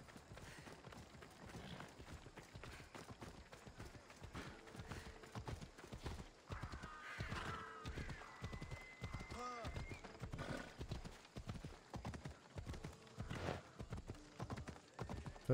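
A horse in Assassin's Creed Odyssey gallops with a steady, rapid clip-clop of hooves and neighs a few times partway through, the hoofbeats continuing throughout, fairly close.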